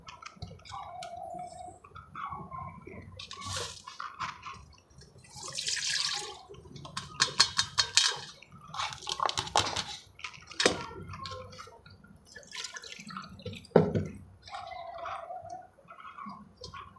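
Mint leaves are washed in water, with splashing, dripping and trickling sounds in irregular bursts, close by and fairly quiet, with brief pauses between handfuls and no talking.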